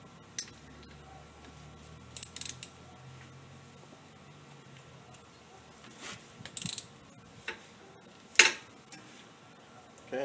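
A socket wrench loosening the lower brake caliper bolt on a 2004 Toyota Camry front brake, a few short ratcheting clicks and metallic clanks in scattered bursts over quiet background, close and fairly faint.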